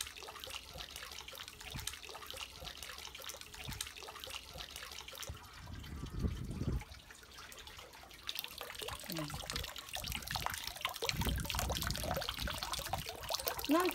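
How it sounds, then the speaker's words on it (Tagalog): Water runs and splashes as hands are washed at a Japanese temple purification basin, a steady soft trickle with brief heavier splashes, outdoors and at moderate distance, with no talk. "Bago ka daw magdasal doon sa temple sa mga Japanese kailangan maghugas ka muna ng kamay dito."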